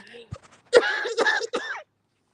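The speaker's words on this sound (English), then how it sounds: "You might have been in the middle of coughing." A woman coughs and clears her throat after tea goes down the wrong way, a few short harsh bursts close to the microphone with a faint voice before them.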